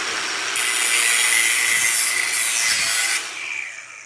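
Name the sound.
Dewalt 20V battery grinder cutting an aluminum can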